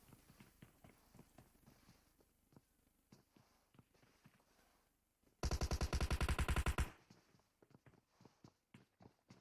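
Rapid automatic gunfire erupts in a loud sustained burst during a competitive esports scrim, between lighter footsteps and scattered quieter shots before and after.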